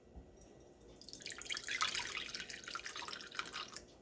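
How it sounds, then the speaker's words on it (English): Warm milk at about 124 degrees Fahrenheit is poured into a container for homemade yogurt, a soft, close trickling and splashing stream building after a quiet start and continuing to the end. "The milk is at about 124 degrees Fahrenheit, so I'm just going to pour a little bit of it in here."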